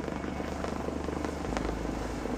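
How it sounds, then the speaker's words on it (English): Rescue helicopter at a remote mountain site on Skye, its rotor chop loud and steady with a low engine drone throughout. "He'll now be rushed to hospital by helicopter."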